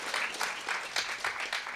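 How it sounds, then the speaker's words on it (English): Staff at a company all-hands meeting giving a round of applause, quick rhythmic clapping from a modest group, fairly faint and distant. "A big round of applause for her."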